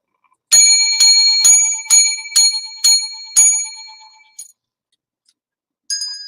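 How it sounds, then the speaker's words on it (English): Bright, clear bells ring seven times in a steady, even rhythm, each tone ringing out briefly, then two fainter dings after a pause, loud and alone. "Seven lucky bells for good luck."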